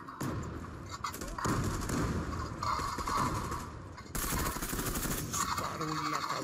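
Sustained gunfire in the online shooter Zula, with rapid bursts of shots and heavy thumps rolling almost continuously, loud and close, with brief breaks between volleys.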